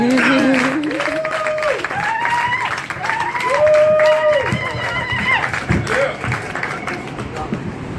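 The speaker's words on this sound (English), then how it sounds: "let's give Dr. Edwards another round of applause" An audience at a reparations convention applauds for Dr. Edwards: a dense, steady wash of clapping throughout, with voices or calls rising and falling over it.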